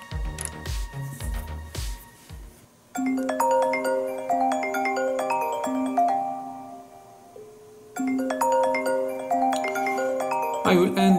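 An iPhone 12 or 13 ringing during a test call, a loud, bright melodic ringtone repeating in phrases, preceded by brief handling sounds.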